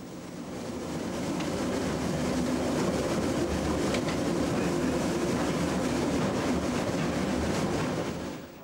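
Steam locomotive 18 201, a record-holding express engine, rolls steadily along the rails at speed on a special run, a loud continuous rumble and rush with faint rhythmic clatter, rising in at the start and fading slightly at the end.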